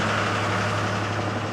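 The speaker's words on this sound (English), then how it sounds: "This is how people get around in my village, in a damn loud ass tractor." A loud tractor rumbles past on a village road, a heavy low engine drone that stays steady and dominant throughout, with no talking over it.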